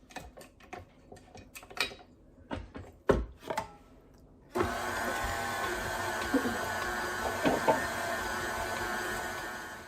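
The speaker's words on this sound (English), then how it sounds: "I've let my stand mixer knead this for a couple minutes." A stand mixer with a dough hook kneads Turkish pide flatbread dough, starting abruptly after some scattered clatter and knocks and then running as a steady, close mechanical whir.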